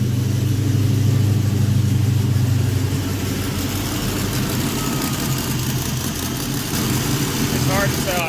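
An engine idles loudly and steadily up close, a rough low rumble with a faint tick from a leaking exhaust header mixed into it.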